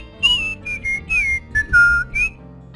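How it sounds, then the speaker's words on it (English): Cheerful whistling plays a bouncy tune of short, bright rising and falling notes in quick bursts, clear and close with no talking. "Whistling happily, the puppet left home."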